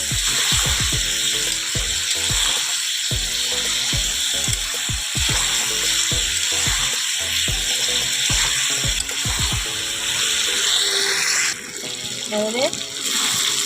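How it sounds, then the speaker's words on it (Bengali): Ginger paste and ground spices fry in a pan with a steady, loud sizzling hiss that runs throughout, joined by clinks and scraping of stirring, and someone speaks briefly near the end. "আদা বাটাটা দিয়ে দিলাম আর গুঁড়ো মশলাগুলো দিয়ে দিলাম ভালো করে কষিয়ে নেব"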